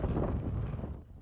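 Strong cold wind roars against the microphone during a heavy rain storm at a village petrol pump, a loud, close, buffeting rush.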